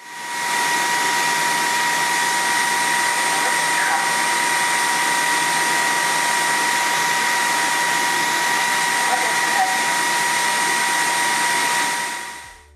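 A Dreame H14 wet-dry vacuum runs steadily at close range, a constant whirring hiss with a faint whine, starting and stopping cleanly.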